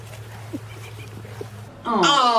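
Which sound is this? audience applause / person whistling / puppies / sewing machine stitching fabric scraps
puppies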